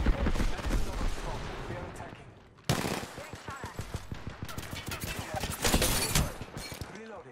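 Sustained enemy gunfire in Apex Legends rattles in fast automatic bursts with a sharp surge partway through, continuing steadily among other game noise and some voice.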